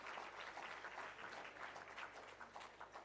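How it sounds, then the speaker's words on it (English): An audience claps steadily at a public sector leadership conference opening ceremony, a dense, even round of applause heard from a moderate distance with no talking. "let's give another rousing round of applause to Kemoy Gordon"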